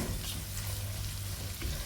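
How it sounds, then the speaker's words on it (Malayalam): Chopped onions sauté in a hot pan for egg tawa pulao, giving a steady, close sizzle with light stirring scrapes throughout and no voices. "ഇതൊന്ന് നന്നായി വാട്ടിയെടുക്കുക ഗോൾഡൻ കളർ ആവൊന്നും വേണ്ട വാടിയാൽ മതി നന്നായിട്ട്"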